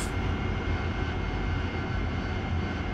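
In the DCS World flight simulator, a jet aircraft's engines roar steadily and loudly on the takeoff roll, a dense, continuous rumble with no speech over it.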